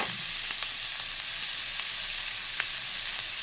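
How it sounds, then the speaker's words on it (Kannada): Finely chopped onion fries in ghee in a pan for a paneer ghee roast, giving off a steady, bright sizzle with a few faint clicks and stirs, close by and without voices. "ಈರುಳ್ಳಿ ಸಣ್ಣ ಕಟ್ ಮಾಡೋದು ಹಾಕ್ಕೋತಾ ಇದ್ದೀನಿ. ಸ್ವಲ್ಪ ರೋಸ್ಟ್ ಮಾಡ್ತಿದ್ದಂಗೆ"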